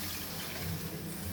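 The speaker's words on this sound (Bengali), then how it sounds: "এবার জল দিলাম।" Water poured into a cooking pot for a fish, potato and lentil-dumpling curry, a steady rushing splash that runs unbroken and fairly loud.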